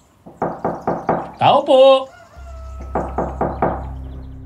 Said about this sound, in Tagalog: Matapos ang ilang katok at pagsigaw, sa wakas ay bumukas ang pinto.